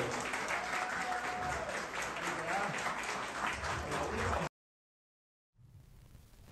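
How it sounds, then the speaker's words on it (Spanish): Strong applause for members of the press at a Dominican Day Abroad event, a sustained wash of clapping lasting several seconds before stopping abruptly, then faint room tone. "para quien pido un fuerte aplauso"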